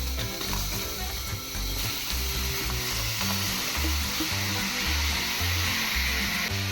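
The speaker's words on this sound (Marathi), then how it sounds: "आता हांव सगळो भाजून घालता तो मसालो." Dried coriander, chillies and garlic roast in a pan for a coastal-style crab curry masala, a loud, continuous close sizzle and crackle with rhythmic stirring scrapes and no talking.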